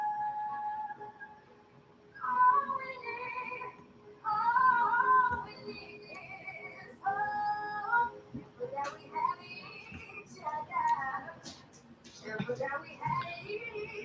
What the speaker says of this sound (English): my cat is on full flex mode